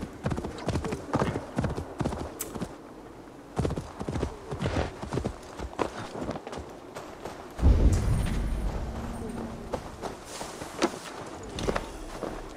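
Horse hooves in Assassin's Creed Valhalla clop in a quick, steady rhythm across the ground, with one heavy thud partway through before the hoofbeats carry on.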